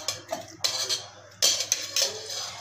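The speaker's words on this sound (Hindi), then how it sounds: "हुण आपां सारे पीस नूं एक बर्तन च पा लांगे।" Watermelon pieces tumble into a metal vessel in a home kitchen, giving several sharp clattering knocks and scrapes in quick bursts, close and fairly loud with no talking.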